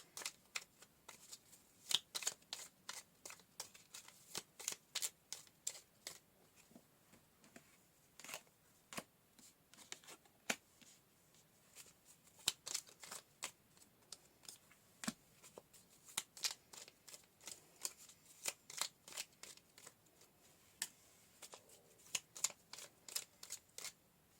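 Tarot cards being shuffled and drawn make a long run of crisp riffles, flicks and soft snaps in uneven bursts, close and fairly quiet, with no voices.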